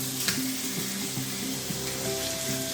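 Burger patties fry in a hot pan with a steady, close sizzle and crackle, a faint stir or clink near the start, no voices.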